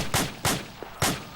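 Gunfire during fireteam training, three sharp, loud shots at uneven intervals with short echoing tails, heard alone without talk.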